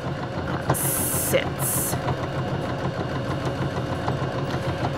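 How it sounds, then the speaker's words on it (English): A Baby Lock Joy sewing machine stitches decorative quilting along a marked line, giving a steady close mechanical hum and rapid needle rattle throughout, with a brief spoken word and a couple of faint high beeps. "aligning that marked line with that opening on that presser foot, and stitch to the end"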